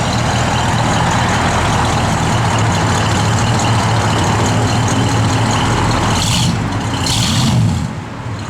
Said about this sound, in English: Car's got good sound to it.